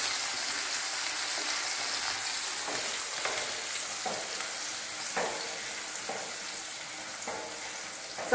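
Green chilies, ginger and garlic sauté in a pan with a steady, close sizzle and hiss, broken by soft spatula scrapes now and then and a sharper clatter at the end.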